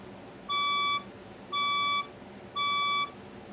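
A building fire alarm sounds during a test, giving three evenly spaced electronic beeps, each about half a second long with short gaps between, clear against a quiet background.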